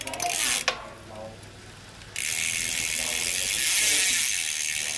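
A Tropix Paris carbon racing bicycle's rear hub ratchet buzzes in a fast, close, continuous click as the wheel spins. It follows a brief quieter pause with a few mechanical knocks, and a voice speaks faintly near the start.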